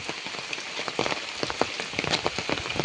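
First rain of the season falling on a Konkan village, a dense close patter of drops striking surfaces with scattered louder splats, steady and unbroken, no one talking.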